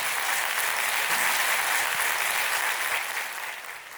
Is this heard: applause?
yes